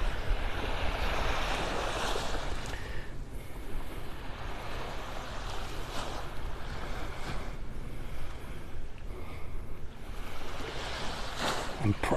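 Ocean waves wash steadily onto Vanderbilt Beach in North Naples, Florida, as a continuous, moderately loud surf roar with some wind rumbling against the microphone.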